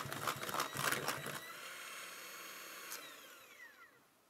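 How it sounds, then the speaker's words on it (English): An electric hand mixer whirs briefly through pecan pie filling with vanilla, a rough rattling buzz for about a second and a half before cutting off, leaving faint kitchen hum and a short high whine. "Give it a quick mix with the mixer."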